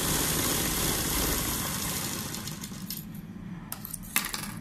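A sewing machine runs a straight seam along a sleeve, a fast even whirring stitch for about three seconds that then slows into scattered clicks and taps as the fabric is handled.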